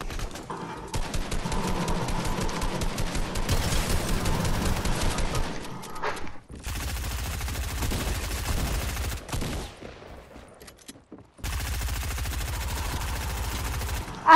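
Rapid bursts of gunfire in Fortnite, loud and close, come in three long stretches split by brief pauses, with dense repeated shots and no talk over them.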